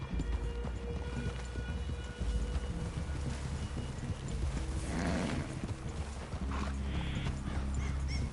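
Horses in the Red Dead Redemption 2 video game, with hoof clops, snorts and a whinny over a low ambient outdoor rumble near a forest clearing.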